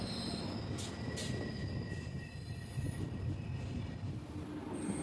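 A train pulls into a station on a busy rail journey toward Changanassery, with low steady rumbling, faint wheel squeals and brief higher tones, heard at a distance and fairly quiet.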